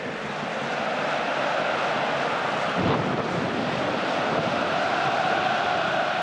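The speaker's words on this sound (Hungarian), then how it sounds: "Óriási dörgött az ég közben." A deep thunder rumble rolls over the steady roar of a stadium crowd during a Videoton FC versus Ferencváros football match, with one heavier low crack standing out midway.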